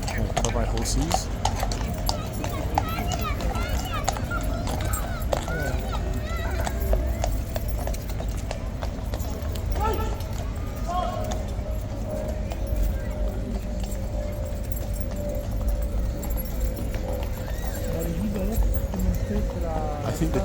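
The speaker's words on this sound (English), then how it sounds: "Horses." Horses' hooves clip-clop on hard ground at Horse Guards during a ceremonial cavalry event, a steady stream of overlapping hoofbeats with a neigh amid crowd chatter and people talking.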